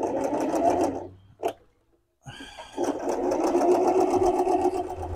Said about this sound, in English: this four-step buttonhole machines are just